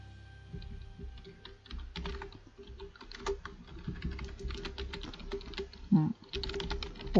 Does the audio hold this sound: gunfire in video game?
no